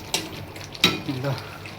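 Finely chopped coriander frying in a pan for momo achar, a few soft sizzles and stirring scrapes, brief and close.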